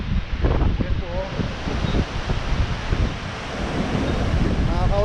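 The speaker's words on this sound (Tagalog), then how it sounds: "masyadong mataas yung bulwak ng tubig. Yung pag-shuffle niya, ang lakas oh." A long, wide river near San Vicente runs high and strong, its surging water a steady loud broadband rush mixed with wind buffeting the microphone, with voices talking faintly underneath.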